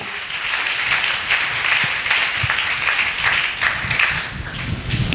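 A church congregation applauds together, a dense steady wash of clapping at close range that runs throughout with no break.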